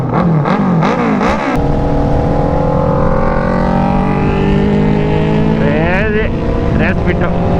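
Tuned Nardo Grey Suzuki Hayabusa motorcycle with a loud aftermarket exhaust: close, repeated throttle blips, then a long sustained rev with a rising and falling engine note, followed by more sharp blips.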